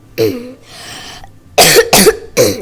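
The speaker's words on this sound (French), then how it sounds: "pardon si je tousse" Three sharp, loud coughs in quick succession, after a brief bit of voice and a quiet pause.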